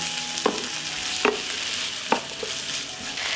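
Vegetables sizzle in a pan while a utensil stirs them, scraping the pan with a few distinct knocks over the steady frying hiss.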